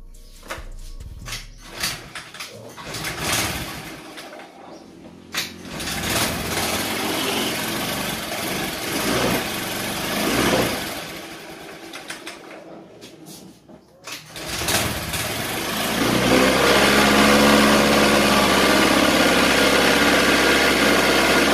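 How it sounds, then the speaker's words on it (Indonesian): Honda Vario Techno carburetor scooter engine being started and run with no battery fitted: sputtering revs that rise and stumble, then settle into a steady, louder idle, with a voice talking over it at times. "Ini saya hidupkan tanpa aki terpasang ya teman-teman"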